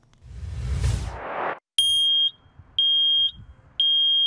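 A sharp whoosh gives way to a smoke alarm blaring three loud, piercing electronic beeps at regular intervals, close by.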